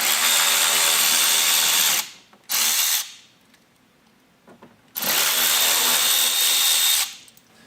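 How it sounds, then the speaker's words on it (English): A power driver with a T15 Torx bit backs factory screws out of a 2023 Chevrolet Colorado ZR2 for a mud flap install, two loud whirring bursts, one long and one short, with a quiet gap between. "We're going to remove those screws using our T15 Torx."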